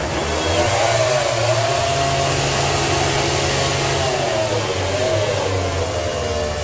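Jorge Lorenzo's MotoGP motorcycle holds a sustained, loud, high-revving burnout with its rear tyre smoking, a steady roaring engine note with slight pitch wavers, heard alone without voices.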